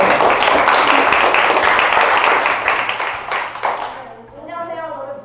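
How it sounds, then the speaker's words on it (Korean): Applause from a studio audience welcoming the experimenter at a physics quiz show, dense and sustained clapping that fades out as a voice begins speaking near the end. "박수로 환영해 주시기 바랍니다."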